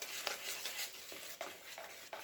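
A cake batter with broad beans and chorizo is being mixed in a bowl, quiet scraping strokes repeating in an irregular rhythm, close and faint, with no voices.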